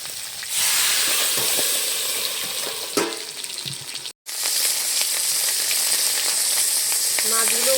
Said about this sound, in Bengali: উল্টে পাল্টে বেশ সুন্দর লাল করে ভেজে নিচ্ছি